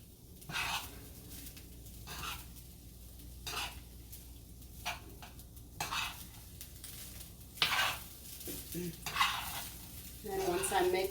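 Shrimp fried rice with vegan butter, stirred in a frying pan: soft scraping strokes of a utensil against the pan over a steady low sizzle, with a few sharper clinks, and no voices.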